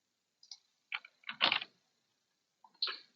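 Command being typed on a computer keyboard, heard as a few short, quiet bursts of key clicks separated by pauses, with no other sound around them.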